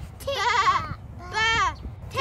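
Two wavering bleats, close and clear, with a third starting at the end; a person imitating a sheep during a church Christmas pageant.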